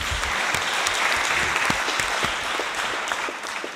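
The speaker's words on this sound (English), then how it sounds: "Let's give them a round of applause." Steady applause from an audience at a UN commemoration of the 1994 genocide against the Tutsi in Rwanda, a dense, even patter of many hands sustained throughout with a few sharper claps standing out.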